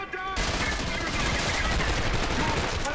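Rapid gunfire in the first-person shooter Trepang2, a dense, loud, continuous burst of shots filling the whole stretch after a brief quiet start.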